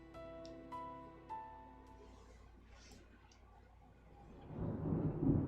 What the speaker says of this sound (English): Big black cumulonimbus clouds are in the sky. And that sound. Thunder snow is coming.